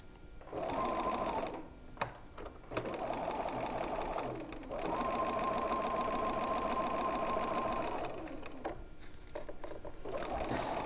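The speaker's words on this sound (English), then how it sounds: "And as I sew, I'm just making sure that I'm not sewing any tucks or pleats into this seam." A sewing machine stitches a curved quilt block seam with a short stitch length, whirring steadily in several runs of a few seconds each, separated by brief pauses.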